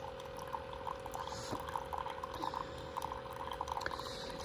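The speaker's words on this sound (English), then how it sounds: "Wow, my brew's a lot faster." A Keurig Duo coffee maker brews, a soft continuous pouring and trickling of liquid with small gurgles, faint and close, with occasional light background sounds.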